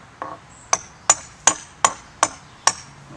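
A hammer strikes a bolt while a swing set is being built. Seven sharp metallic knocks come at a steady, even pace, close and ringing briefly after each hit.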